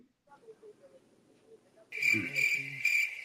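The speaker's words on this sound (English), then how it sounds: "Do we still have crickets too?" A cricket chirping sound effect kicks in partway through, loud, rhythmic bursts of shrill chirps repeating steadily after quiet voices murmur beforehand.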